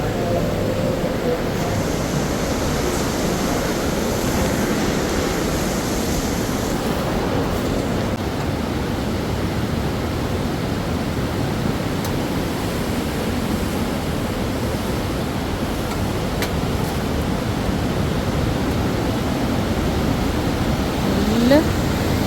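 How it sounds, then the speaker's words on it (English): A constant, heavy roar of the Lütschine River cascading through a gorge fills the scene without pause, broad and thundering, with no distinct voices. "you can listen to the thundering of the water cascading down the"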